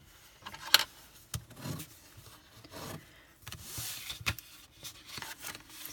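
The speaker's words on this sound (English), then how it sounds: "Score inwards on both." Paper being scored with a tool for a Valentine's gift bag, heard as soft rubbing strokes and light scratchy scrapes with a few sharp taps, close and quiet, with no talking.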